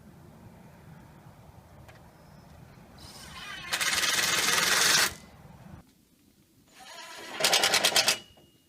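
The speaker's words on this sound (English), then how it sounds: "Now put the rest of the screws in the center section." Screws go into the center-section slats of a wheelchair swing under a power driver. Two loud, close bursts of high motor whine are heard, each ramping up and then cutting off, with quieter handling sounds between them.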